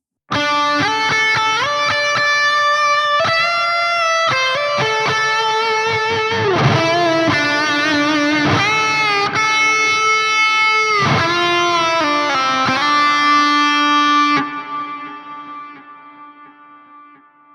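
Electric guitar played through a Soldano SLO-100 X amp plugin with two post effects engaged, a loud, distorted run of sustained notes and chords with echo tails, ringing out and decaying at the end.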